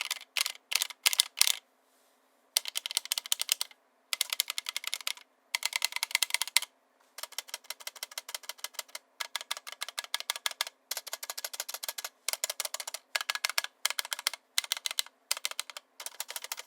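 GK61 mechanical keyboard in an aluminum case with stock switches, typed on in rapid bursts of close, crisp clacks separated by brief pauses.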